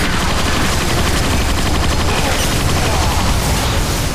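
Minigun fire roars nonstop in the video game Transformers: Fall of Cybertron, a loud, dense stream of rapid shots blending into a continuous wall of gunfire, close and unbroken for the whole stretch.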